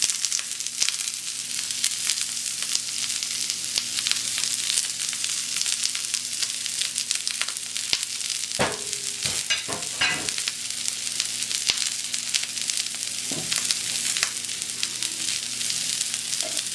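Onion and capsicum sizzle on a hot seasoning plate for gola kebab, a loud, steady hiss with occasional clattering bursts of stirring or scraping near the middle and later on.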